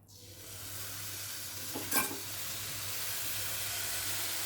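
Cashews and raisins are stirred in a hot pan for rava laddu, giving a steady close sizzle and hiss with one brief louder scrape near the middle.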